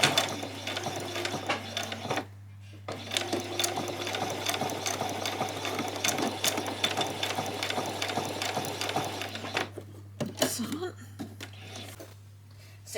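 A sewing machine runs a continuous holding stitch along a skirt placket, whirring steadily with rattling mechanical ticks for about two seconds, pausing briefly, then stitching on for several more seconds before stopping, with a constant low hum underneath.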